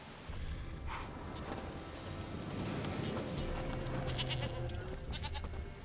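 A goat bleats in The Witcher 3 over a steady bed of game ambience, with bleats recurring through the stretch and horse-like clip-clop and outdoor background sounds mixed in.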